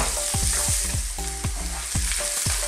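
Onions sauté in a pan for bitter melon and pork, a loud close sizzle under a regular rhythm of spatula strokes scraping and knocking against the pan about twice a second, with no talking.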